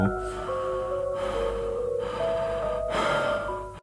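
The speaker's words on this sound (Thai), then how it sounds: "ได้ยินเสียงแปลกๆเสียงหายใจที่ไม่ใช่ของพวกเขา" Eerie, drawn-out breaths and gasps over low droning tones, loud and close, rising and falling in a slow, unsettling rhythm.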